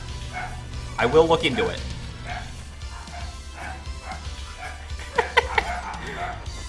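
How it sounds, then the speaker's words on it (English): Dogs in a home bark and yip in short, scattered bursts in the background, while someone talks over the noise near the microphone. "I apologize if you hear my dogs going nuts."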